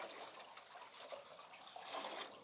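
Water pours steadily into buckets outdoors at a village house, a soft continuous splashing rush, faint and somewhat distant.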